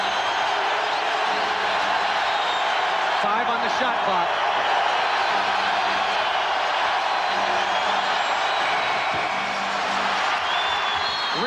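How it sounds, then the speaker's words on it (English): Basketball arena crowd during an NBA playoff game in Sacramento, a steady loud roar of cheering filling the whole stretch while a commentator talks over it. "and the crowd right back into it."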